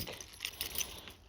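A bunch of keys jingles briefly and lightly while being clipped to a bag outdoors in woodland, a soft metallic rattle close at hand against quiet background noise.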